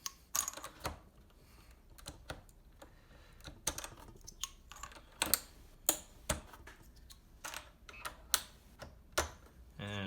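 Keycaps being pulled off a Kinesis Advantage 2 keyboard, a series of sharp plastic clicks and snaps, irregular and close, spread across the stretch with quiet gaps between them.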